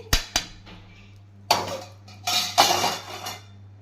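A metal spoon scrapes and clinks against a steel bowl while tempering is stirred into peanut chutney, giving a few sharp taps early on and then a cluster of louder scraping knocks, close and without talk.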